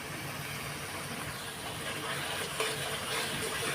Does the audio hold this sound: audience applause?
no